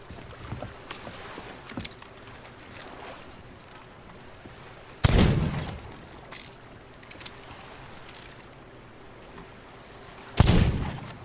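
Two loud, close gunshots in the pirate video game Sea of Thieves, several seconds apart, each with a sharp crack and a rumbling tail, over a soft background of sea and wind.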